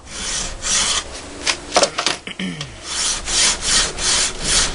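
A metal file rasps burrs off a knife blade, with repeated back-and-forth rough scraping strokes that are loud and close, and a brief clatter near the middle.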